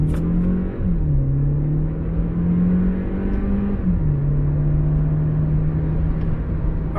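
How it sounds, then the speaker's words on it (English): A 2019 Volkswagen Jetta SEL in eco mode accelerates at full throttle, heard from inside as a loud, steady engine drone and road rumble, with the pitch climbing, dropping briefly at gear shifts, then climbing again. "now we're going to test the acceleration. So just to make sure, we're in eco mode, and I'm just going to floor it"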